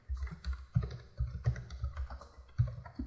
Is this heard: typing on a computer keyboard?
yes